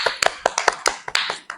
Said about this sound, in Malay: Pandai. Tepuk tangan.